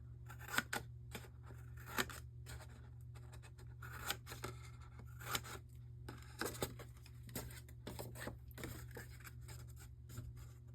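Scissors snip through paper tabs for craft pouches and a designer box, a string of close, crisp cuts in irregular rhythm over a steady low hum.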